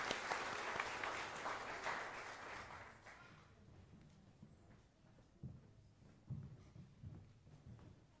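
Applause from a congregation at a service rings out loud and fast at first, then fades after a few seconds into scattered footsteps and shuffling.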